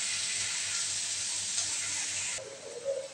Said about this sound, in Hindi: और थोड़ा प्याज को हम भून रहे हैं।